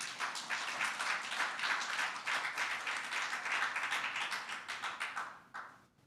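Sustained audience applause at an awards breakfast honouring women, many hands clapping steadily and fairly loudly for about five seconds before tapering off near the end.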